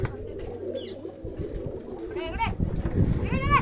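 Pigeons coo at a newly built pigeon coop, with soft repeated calls and a few brief chirps under nearby people talking, and a steady low background throughout.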